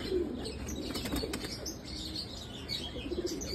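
A pigeon of an old breed flaps its wings in a soft, fluttering rush over steady background noise, with faint chirps mixed in.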